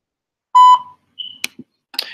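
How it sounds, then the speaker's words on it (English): Voicemail beep on a phone call, a single clear electronic tone near the start, followed by a few faint clicks and small noises. "anytime I have to drop a voicemail, I have to wait for the beep"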